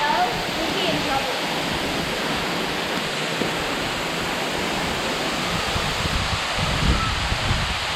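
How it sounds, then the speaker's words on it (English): A mountain waterfall roars in a steady, loud wash of rushing water close at hand, filling the whole scene with constant noise as people talk faintly beneath it. "Let's watch out for all the waterfalls."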